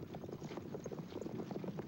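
Hooves of two horses pulling an ancient Egyptian war chariot in the era of Ramesses the Great, a steady run of close clip-clop beats over a rumbling ground noise.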